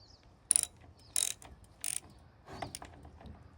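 A ratchet tightens a bolt on an engine during spark troubleshooting, three quick close clicking bursts followed by a softer mechanical rattle.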